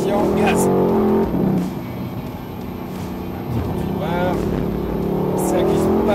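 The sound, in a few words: Mercedes-AMG C63 S accelerating at full throttle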